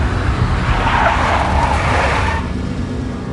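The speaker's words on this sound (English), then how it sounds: "A big black Mercedes." In the Max Payne video game, a big black Mercedes roars loudly and close by as its tyres skid and squeal in one sustained rush, fading slightly at the end.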